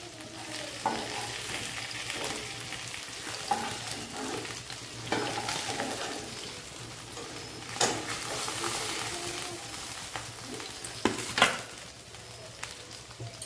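Bhola fish fries in oil in a wok for a dish with peas, a continuous sizzle broken by periodic scraping and stirring clatter, close and moderately loud with no talking.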